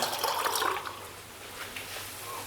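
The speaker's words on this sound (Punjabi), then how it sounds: "ਇਹਨਾਂ ਮਸਾਲਿਆਂ ਨੂੰ ਮਿਕਸ ਕਰਨ ਵਾਸਤੇ ਥੋੜਾ ਜਿਹਾ ਪਾਣੀ ਆਪਾਂ ਪਾ ਦਿੰਦੇ ਹਾਂ" A splash of water tips into spices in a pan while making a lotus stem curry, briefly louder at first, then settling into a soft trickle and faint sizzle.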